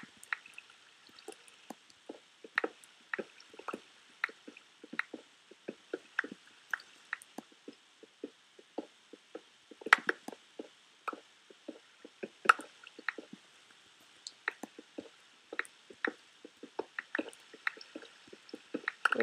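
Rapid, irregular wet squishing and dripping sounds of water in Minecraft, like sloshing liquid, with sharp little splashes scattered throughout at close range.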